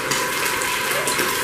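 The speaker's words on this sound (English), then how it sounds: "we're going to deglaze the pot with about a cup of red wine" About a cup of red wine is poured into a hot cooking pot to deglaze it. It makes a continuous hissing, gushing wash of sound that holds steady throughout, with no talking.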